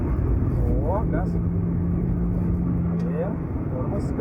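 A race car engine drones on throttle in an in-car setting, a steady low tone with rising pitch sweeps as it accelerates, while voices talk throughout.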